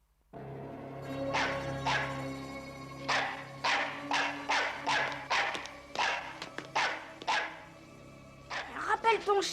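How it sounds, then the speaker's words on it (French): A dog barks repeatedly, a steady run of about a dozen loud, sharp barks close by, over a low hum and faint background voices. "Rappelle ton chien, Régis."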